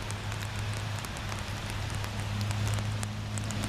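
Steady rain patters on an outdoor surface during dog obedience training, a dense, even hiss of drops throughout with a faint low hum underneath.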